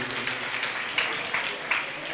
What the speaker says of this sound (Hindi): एक बार तालियां इन बच्चों के लिए भी।